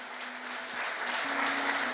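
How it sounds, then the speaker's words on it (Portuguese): A church congregation applauding during a sermon, a dense crowd clapping that swells slightly louder toward the end, with a faint sustained tone underneath. "Aplauda o Senhor."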